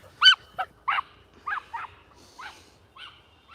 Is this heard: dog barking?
yes